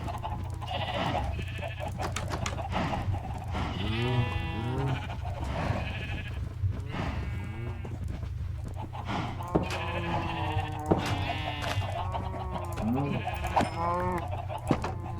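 Sheep bleat repeatedly in a video game, several overlapping calls over a steady low background hum, with faint talking in places.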